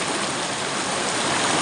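A river stream flows steadily beside a riverside camp at night, a loud, continuous broadband rush of water that stays close and even throughout with no voices over it.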